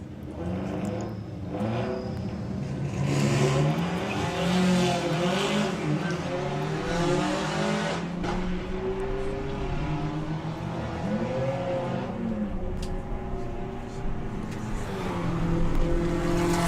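Audi drag cars at a Santa Pod sportsman event roar down the strip, the engines rising in pitch through gear changes in a long, loud, sustained pass, with a commentator speaking over them.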